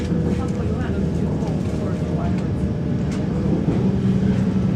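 Interior rumble of a passenger train on the Marylebone to Oxford line pulling into High Wycombe, a steady loud drone of wheels and motors that continues evenly throughout with no pauses.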